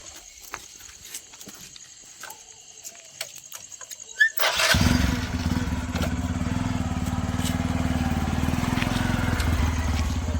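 A motorcycle engine cranks and catches partway through, then settles into a steady, close idle after a quiet stretch of background noise.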